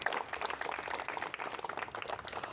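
Audience applause honoring the committee behind the Umaji Naik memorial, a steady, dense wash of many hands clapping at a moderate, fairly distant level with no speech over it.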